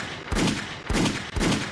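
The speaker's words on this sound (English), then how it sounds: "I need all the gunshots in the building." Gunshot sound effects played on a podcast: three loud, sharp bursts, evenly spaced about half a second apart, each with a short rumbling tail, with no talking.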